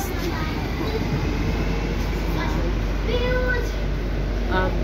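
A train gives off a loud, continuous rumble with faint squeals throughout, while people talk underneath.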